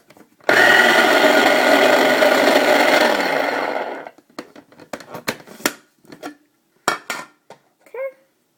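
Shea butter is whipped in a bowl, a loud continuous mechanical whirring for about three and a half seconds, then scattered close scraping and knocking clatters as the mixing stops, with no talk.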